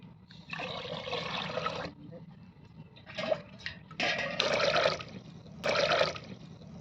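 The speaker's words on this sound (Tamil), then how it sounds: "தண்ணி மூணு கப்பு ஊற்றிக்கலாம்" Water is poured into a pot on the stove while cooking ragi karupatti kali, three cups in splashy rushing bursts with short pauses between them, close and fairly loud.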